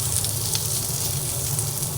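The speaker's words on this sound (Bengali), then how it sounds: "পেঁয়াজ কিছুটা ভেজে নিলাম সেই অবস্থায় যে চিকেনটা ম্যারিনেট করে রেখেছিলাম সেটা দিয়ে দিলাম" Marinated chicken goes into a pan of frying onions and sizzles with a steady, close crackle. A low hum runs beneath the frying, and no one speaks.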